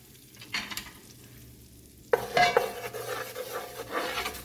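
Flour stirred into a cup of hot oil for a Louisiana gumbo roux: soft scraping and stirring, then a sudden loud sizzle and hiss with clinks of a utensil against the pot, close up.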